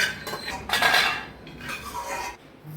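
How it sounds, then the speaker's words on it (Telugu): Sesame seeds and peanuts are dry-roasted in a metal pan, with short bursts of scraping and clinking as a spatula stirs them. The strokes come close and uneven, with quiet pauses between. "ముందుగా బాండల్లో నువ్వులు వేసుకొని దోరగా వేయించుకోవాలి"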